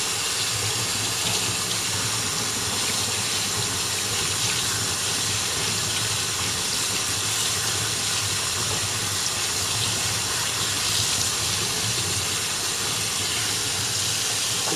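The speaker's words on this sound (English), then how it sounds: "I'm going to make sure I rinse these really well" Strawberries rinsed under a running kitchen tap, a loud, steady, close gush of water filling the sink throughout.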